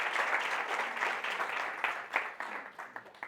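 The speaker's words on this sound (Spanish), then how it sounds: "Damos un aplauso a estos hermanos." Church congregation applauding newly baptized members during a service, a dense, steady wash of many hands clapping throughout, fairly close, with a few sharper claps standing out near the end.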